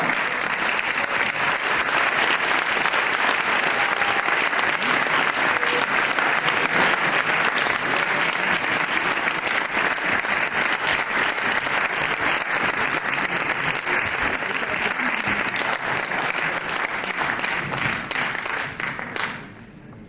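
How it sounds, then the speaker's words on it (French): A crowd at a political meeting for the 2015 regional elections in Rennes gives a long, loud, sustained round of applause that stays full for about twenty seconds before tapering off sharply at the end. "Et je voudrais qu'on les applaudisse très fort."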